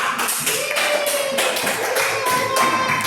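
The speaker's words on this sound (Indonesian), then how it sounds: "Kasih dulu tepuk tangan untuk kita semua." A primary school class clapping together after a maths lesson, a steady burst of quick claps from many hands that keeps an even pace for a few seconds, with no voices over it.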